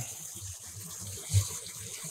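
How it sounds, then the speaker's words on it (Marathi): Water gushes steadily through a pumped pipe at a jetty, a continuous rushing, splashing flow with a faint thump partway through and no talk. "ह्या ही आहे पंप थ्रो पाणी खेचला जातं"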